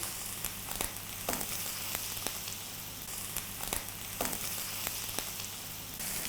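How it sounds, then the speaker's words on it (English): Rib-eye steak sizzling in a pan while being basted with melted butter, a loud continuous crackle and spit close by with periodic sharp pops, no talking. "I'm using a technique called basting, where you take the melted butter and you put it on top of the steak"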